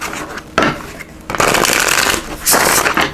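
Tarot cards being shuffled by hand in a few loud riffling bursts with short pauses between, close up and with no talking.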